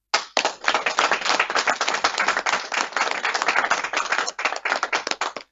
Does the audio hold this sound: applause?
yes